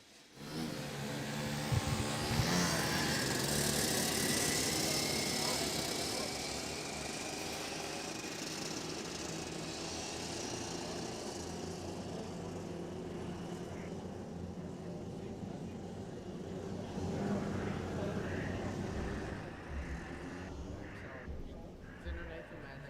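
Rotax kart engines buzz steadily through a formation lap of a Rotax Max Challenge race in Namibia, a continuous loud drone that swells and fades slightly as the karts pass, with a commentator talking over it.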